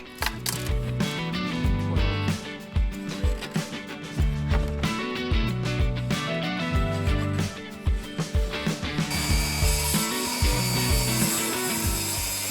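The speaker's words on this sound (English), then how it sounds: "I'm also going to cut a groove in the back side of this so it can receive that 1/4 inch plywood back" A groove is cut into the back side of a salvaged-wood hall tree piece to take a 1/4 inch plywood back, giving repeated rough, rhythmic sawing strokes with tonal tool ringing, ending in a brighter, sustained cutting hiss.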